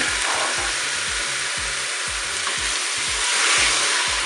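Mushrooms browning in a Cookeo multicooker, giving a loud, dense, continuous sizzle with no pauses and a steady hum beneath it.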